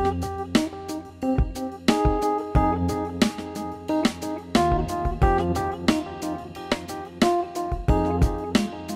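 A busy synthesized MIDI groove of plucky, tonal notes with groove delay echoes trailing after each hit, playing steadily without any voice.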